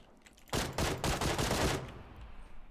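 A sustained burst of automatic gunfire in PUBG, about a second long and fairly loud, with a fainter shot or two trailing after it and no talk in the clip.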